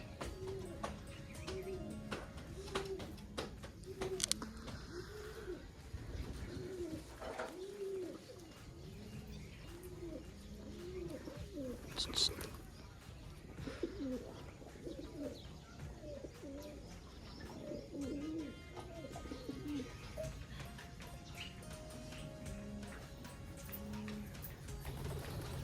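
Pigeons coo in repeated soft, rounded bursts at a moderate distance, with occasional chirps from other birds over a quiet outdoor background.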